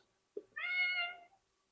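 A pet cat lets out a single drawn-out meow, faint and somewhat distant in a quiet room, preceded by a brief soft thump.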